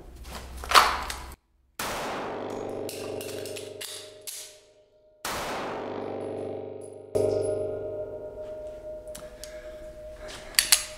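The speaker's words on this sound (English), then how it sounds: "So I'm gonna do a couple shots, mag change," Pistol shots ring out sharply near, followed by the metallic clatter of an aluminum magazine being swapped in an aluminum-framed pistol fitted with an Icarus Precision X-Macro grip module, with more shots after the change.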